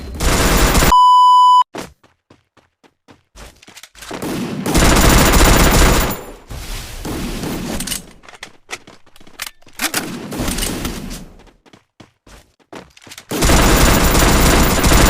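Bursts of gunfire in the Free Fire battle-royale shooter during a 4v4 match, loud, broadband volleys separated by short pauses, with a brief electronic beep near the start and no talk.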